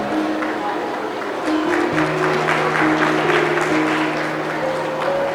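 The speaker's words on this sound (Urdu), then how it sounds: "جن کو شعر سمجھ آیا ان کی تالیوں کا شکریہ" Audience clapping after a recited Urdu poem at a presentation, a sustained wash of applause at moderate loudness with a voice speaking over part of it.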